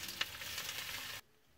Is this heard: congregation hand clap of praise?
no